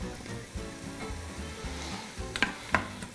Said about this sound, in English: Okay, so it's starting to saute.